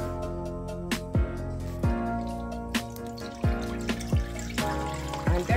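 Juices from a baked chicken poured off into a container, a thin trickle with irregular drips and splashes falling close by over a few seconds.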